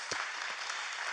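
A seated audience gives steady, even applause, a dense wash of many hands clapping together at moderate distance with no voices over it.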